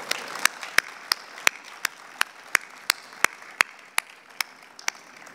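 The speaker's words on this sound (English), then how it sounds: "So we should just give him a round of applause." A single person clapping slowly and evenly at a conference talk, about fifteen sharp, isolated claps in a quiet room, with no crowd joining in.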